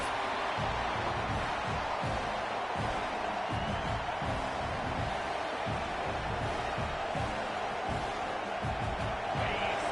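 A large football stadium crowd at a playoff game roars steadily, a dense wall of cheering and noise throughout, with some announcer talk underneath.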